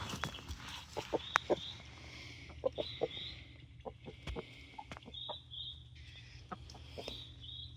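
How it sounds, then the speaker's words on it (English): Chickens on a Central Texas homestead cluck in short, scattered calls, with occasional higher squawks over a quiet outdoor background, moderately close, and no one speaking. "it's because I had to feed these chickens."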